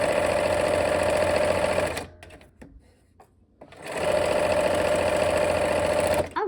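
A sewing machine stitches quilt seams in loud, rapid continuous runs, pausing for about two seconds of quiet handling and fabric rustle before the motor whirs back up at full speed.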